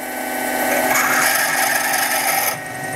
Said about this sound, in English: I'm running the drill slow to get to the bottom of the center drill